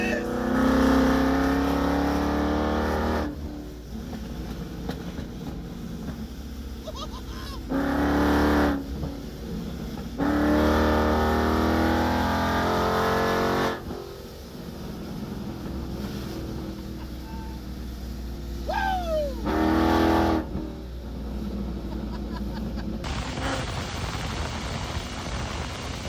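A twin-turbo Mustang with a swapped truck engine, running on E85, pulls hard in several loud bursts at partial throttle. Quieter wind-buffeted stretches separate the bursts.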